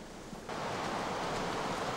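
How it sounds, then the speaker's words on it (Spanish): River water diverted through a forest millrace pours with strong pressure onto a sawmill's wooden drive wheel, a steady rushing roar that swells louder after a quieter start and then holds constant. "Los aserradores desvían el agua del río a voluntad, canalizándola por la acequia hasta caer con una fuerte presión sobre la rueda motriz de la sierra."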